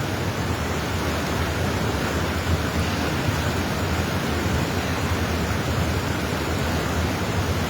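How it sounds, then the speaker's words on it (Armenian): The Azat river rushes past in a steady, loud, broadband roar of flowing water, continuous and close with no pauses and no voices. "Ազատ գետի հրաշք վիճակը ուղղակի հիացմունք է պատճառում մարդու"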